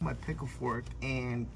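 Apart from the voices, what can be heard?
None of the usual background noises is heard.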